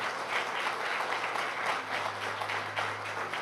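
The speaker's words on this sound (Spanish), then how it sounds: "Démosle un fuerte aplauso a ella." Church congregation applauding steadily throughout, a dense wash of clapping with a low hum underneath and no one speaking over it.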